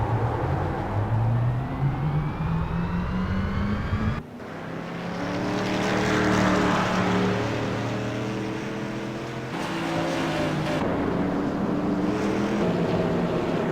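Tour Modified race cars lapping New Hampshire Motor Speedway, a loud continuous engine roar with rising and falling pitch as cars pass and shift, several engines layered together, and a sharp change partway through as the field sweeps by.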